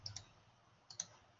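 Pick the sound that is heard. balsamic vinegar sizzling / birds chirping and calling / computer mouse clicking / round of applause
computer mouse clicking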